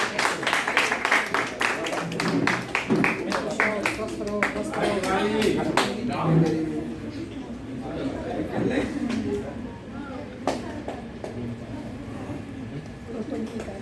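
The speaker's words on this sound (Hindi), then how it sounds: "जोरदार ताली से स्वागत कीजिए।" An audience claps to welcome a guest at a birthday event where he is honored with a shawl and coconut. The clapping is scattered and irregular and is mixed with crowd chatter and a voice speaking over it.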